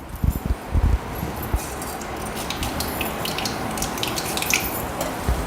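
Mustard seeds sputter in hot oil in a pan, a crackling, fizzing patter after a few bumps and knocks at the start, steady and moderately loud with no voices.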